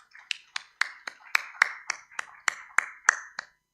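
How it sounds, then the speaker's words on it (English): A single pair of hands claps about a dozen times in a steady, even rhythm at a conference session, each clap sharp and close with brief silence between. "Let's give a last round of applause to our speakers."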